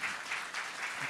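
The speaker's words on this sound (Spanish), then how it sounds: "vamos a darle fuerte aplauso a la hermana que nos está visitando por primera vez" Brief burst of congregation applause during a Sunday church service, a short dense patter of clapping hands heard on its own.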